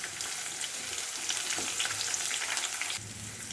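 Onions frying in oil with cumin, curry leaves, ginger and garlic for potato curry, a close steady crackling sizzle that drops slightly quieter near the end, no speech.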